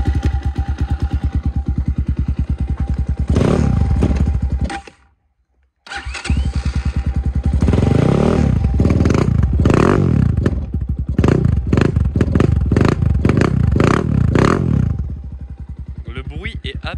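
Motorcycle engine runs at a steady idle and is blipped through several sharp, repeated revs, loud and close. It cuts out briefly, restarts, then settles back to a lower idle.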